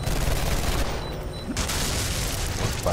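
Dense, sustained machine-gun fire from the shooter video game F.E.A.R. 3 fills the whole stretch with loud, continuous bursts and booms, with no talking.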